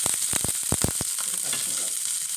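Sliced onion dropped into a pan of oil where mustard seeds have already popped: a few sharp stirring knocks, then a continuous close frying sizzle.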